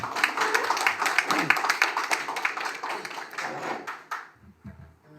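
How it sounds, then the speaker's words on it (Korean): An audience claps at a peace organisation guest-speaker event in a small crowded room, a brisk burst of many hands lasting about four seconds, then fading into quiet with faint low voices. "박수로 크게 모시겠습니다"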